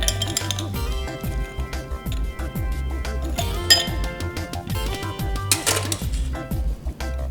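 A metal cocktail shaker cap and strainer are handled while mixing a Blue Hawaii, giving a run of bright clinks and rattles with splashy gaps where water is poured out, all close and moderately loud.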